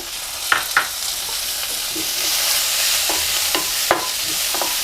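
Chopped tomato sautés with onion in a pan, a continuous hissing sizzle punctuated by several soft scrapes and taps of a stirring spoon, close and steady with no voices.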